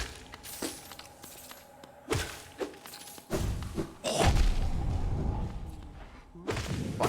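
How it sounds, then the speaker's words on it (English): Enemies exploding in Hollow Knight, a run of loud thuds and crunching, shattering bursts that come one after another over a low game background. "Fuck exploding enemies."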